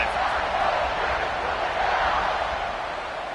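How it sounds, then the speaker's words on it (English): Steady roar of a large college football stadium crowd at Notre Dame vs Ohio State, cheering after a long scoring drive as the kickoff unit takes the field, a broad continuous wash of voices with no single voice standing out. "this crowd is feeling themselves after that last drive"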